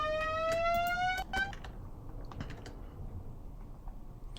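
A pitched-up reverb riser from a melodic trap track: a thin tone sweeping upward for about a second and a half, then falling away into quiet, sparse ticks and a low rumble.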